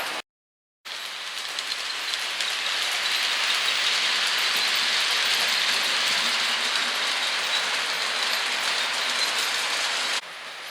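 A model train runs around its layout track with a steady, even mechanical rattle and whir of wheels and gears, close and continuous for about nine seconds after a brief silence.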